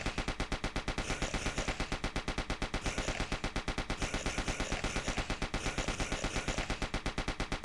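Rapid, continuous gunfire from a player shooting waves of enemies in an indie developer's game, a steady machine-gun-like stream of shots over a dense, loud game soundscape without pause.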